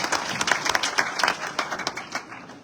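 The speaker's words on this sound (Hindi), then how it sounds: "सादिक भाई के लिए जोरदार तालियां बजाइएगा।" A crowd at a political party gathering breaks into applause, a loose patter of many hands with individual sharp claps standing out, moderately loud and tapering off toward the end.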